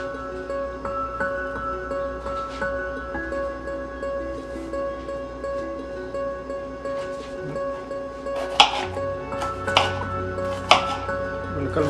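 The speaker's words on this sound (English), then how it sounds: "I'm gonna cut the slices" A knife slicing through chicken on a cutting board for stir fry, a sparse series of sharp, close taps that grows more frequent toward the end, over a steady kitchen hum.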